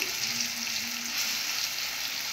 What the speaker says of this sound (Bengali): আমটাকে এইভাবে ভালো করে ভেজে নেব।